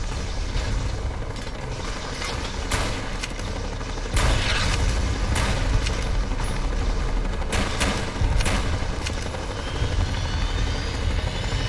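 A grenade blast and gunfire ring out in the video game Fallout: New Vegas, with dense, loud bursts of shots and explosions over a steady rumbling background, sustained throughout and no talking.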